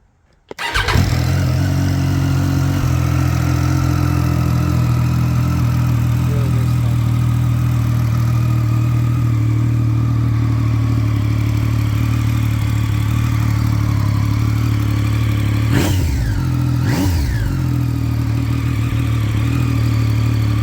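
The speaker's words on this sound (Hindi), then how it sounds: "अब ये मोटर बाइक को एटलीस्ट कम से कम स्टार्ट करके तो आपको बता ही देता हूँ" A motorcycle engine cranks and catches within the first second, then settles into a loud, steady idle close by, with two brief revs near the end and no talk.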